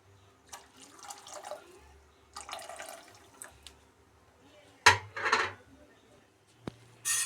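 Tamarind water is poured into a pot of cooked pineapple and lentils for pineapple rasam, heard as soft splashing bursts with a louder splash and a sharp knock near the end.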